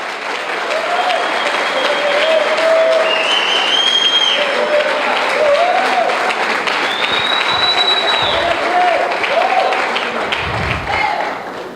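A church congregation applauds in sustained, loud clapping for nearly twelve seconds, with shouts and voices rising over the dense clatter of hands.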